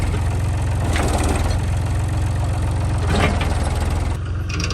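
A tractor engine runs steadily and close by, a low rumbling idle with a faint knocking pulse that swells slightly twice, while struggling to pull a heavy concrete pipe.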